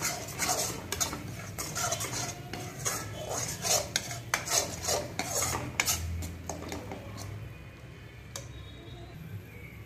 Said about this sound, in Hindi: अब इसको अच्छे से मिक्स कर देंगे